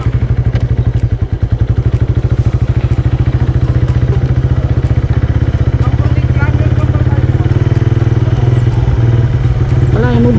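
A motorcycle engine-brakes down a steep dirt trail on Mount Zion in Bugallon, Pangasinan, giving a steady close thrumming pulse with rattles and clatter over it throughout.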